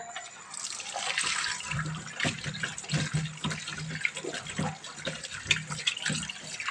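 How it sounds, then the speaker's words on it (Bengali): Chicken pieces washed under a running kitchen tap, water splashing and pattering into the sink nearby with uneven bursts as hands move the meat, with no clear talking over it. "ধুয়ে নিই চিকেনটা"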